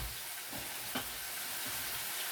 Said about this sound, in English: The chicken sizzling away, which will be nice.